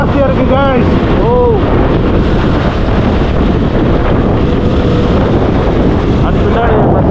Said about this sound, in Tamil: சவுண்டு எப்படி இருக்குன்னு தெரியல, ஆனால் காற்று வந்து செம ஜாஸ்தியாக இருக்குங்க.